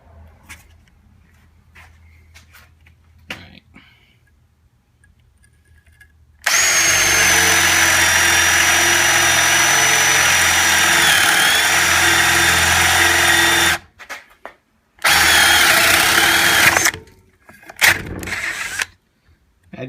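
A Porter Cable 20V cordless drill fitted with a spade bit bores into a 2x4 clamped in a vise, running loud and steady for several seconds, stopping briefly, then whirring through a second burst, with quiet handling noises before it starts.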